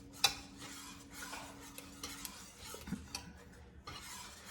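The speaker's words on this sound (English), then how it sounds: "You want to keep stirring it while the pectin is absorbing into the pineapple and bananas" A spoon stirs and scrapes through thick pineapple-banana monkey butter with pectin in a cooking pot, quiet rubbing strokes with a sharp metallic clink near the start and soft bubbling spits.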